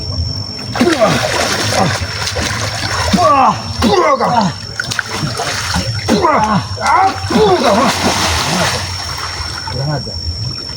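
Heavy splashing in a river as a person is thrown into the water, with churning splashes and dribbling water running continuously alongside voices and background noise.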